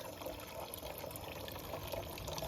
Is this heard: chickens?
no